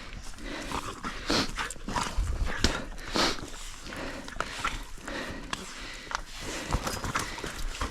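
Dogs being loaded up, moving and panting in a busy outdoor scene, with scattered sniffs, paws and clattering steps, fairly close, amid steady background noise.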